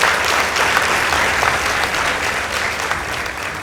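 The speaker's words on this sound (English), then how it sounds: "Let's give them a round of applause" Sustained audience applause at a school debate competition between Chesamisi Boys High School and The Hill School Girls Eldoret, a dense, steady wash of many hands clapping throughout with a faint crowd murmur.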